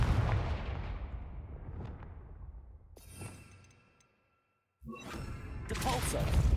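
Confringo blasting spells exploding in the Hogwarts Legacy video game: a loud broadband blast with a long rumbling decay, a sharper burst near the middle, a brief dead silence, then another heavy, sustained explosion.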